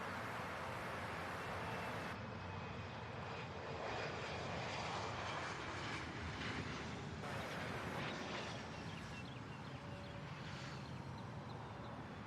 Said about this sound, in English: I got this Delta flight here coming in hot out of Detroit.